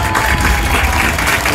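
Applause for a woman at a church baptism service, a dense, loud burst of many hands clapping together, steady throughout with no speech.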